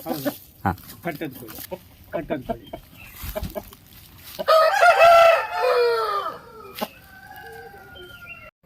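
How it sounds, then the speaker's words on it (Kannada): A Kempuriya rooster, a breed known for fighting, crows loudly and close by in one long drawn-out call after a stretch of people talking and clucking, then gives shorter calls. "ಇದ್ಯಾವುದು ಕೋಳಿ ಇದು ಪುರಿಯ ಕೆಂಪುರಿಯ ಇದು ಅಂದ್ರೆ ಕಟ್ಟಕ್ಕೆ ತುಂಬಾ ಫೇಮಸ್"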